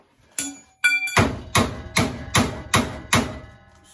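Crash bar parts on a DIY front bumper build being hammered into place: two quick metallic taps, then six hard, evenly spaced smacks, close and loud with no talk.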